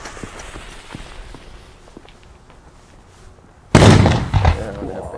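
A Pyrounion Kanonenschlag Typ 1 firecracker with 5.9 g of net explosive content goes off in one loud, sharp bang with a ringing tail. Quiet rustling and faint footsteps come before it.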